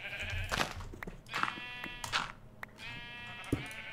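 Sheep in Minecraft, on the FTB Revelations modpack, bleating several times in overlapping calls across a few seconds, some near and some slightly farther off, with no talk.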